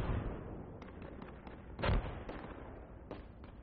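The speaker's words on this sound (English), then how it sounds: "I heard that shot. It was just blam" A single sniper rifle shot in the military shooter Project Reality cracks out loud and close, a sharp blast over a steady rumbling battlefield background with a few fainter distant reports.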